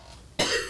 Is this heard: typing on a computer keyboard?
no